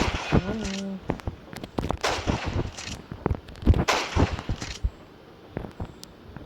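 Rapid bursts of gunfire from a Roblox game crack out in irregular clusters, sharp and loud, with synthetic game-like sound effects between shots.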